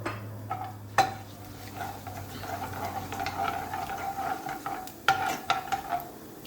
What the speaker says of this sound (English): I'm going to add them to the oil. Let that cook through.